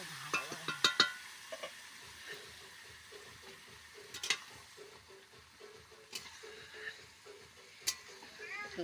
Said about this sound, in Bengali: মেরিনেট করা মাংস মশলার উপর দিয়ে দেওয়া হয়েছে এবার কষানো হচ্ছে